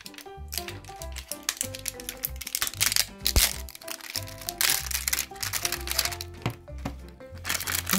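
A plastic wrapper on a slime package tearing and crinkling up close, with sharp crackles and rustles in an uneven rhythm over faint background music.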